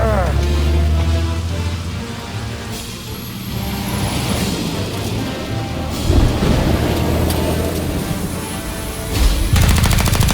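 A gunfight rages in Mafia Definitive Edition, with loud, dense gunshots and bursts cracking almost nonstop over a rumbling background, heavier bangs landing near six and nine seconds.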